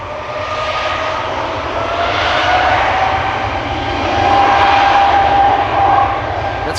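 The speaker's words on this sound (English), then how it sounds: "That's a geared turbofan engine phenomenon. The Wookie howl, or the whale howl" A loud, continuous roar from an Embraer 195 E2's geared turbofan engine at Amsterdam Schiphol Airport, with a faint, wavering tonal howl riding on top, sustained throughout without talk.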